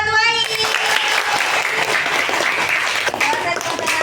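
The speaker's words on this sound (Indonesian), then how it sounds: "Kasih tepuk tangan buat Wai." Classroom applause in an Indonesian primary school, a burst of clapping from pupils for a classmate that fills the whole stretch, loud and close, with children's voices mixed in.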